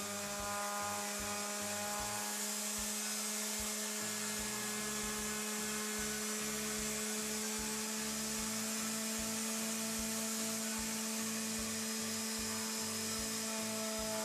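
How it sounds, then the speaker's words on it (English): A hand sander pressed against the sides of a silicone mold box buzzes continuously with a steady high-pitched whine and rapid rattling vibration, loud and unbroken throughout, with no talk. "we used a hand sander placed up against the sides of the mold box"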